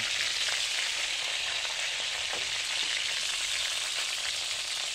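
Chicken pieces seared in hot oil for teriyaki, giving a steady, loud, close sizzle and crackle that holds unbroken throughout with a few faint scrapes.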